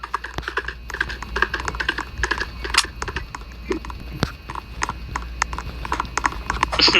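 Horse hooves clip-clopping at a walk, a run of light, irregular clicking taps close by, mixed with faint rustling and brief voices in the background.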